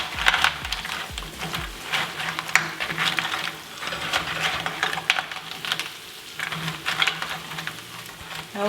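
Garlic and clams are stirred in a pan for garlic butter clams, giving a light sizzle with clicking and rattling of shells and utensil against the pan throughout, with no talk.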